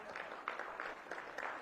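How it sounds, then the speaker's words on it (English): Brief, faint applause from a small audience at a community listening session, a light patter of clapping lasting under two seconds. "clap it up for this young man"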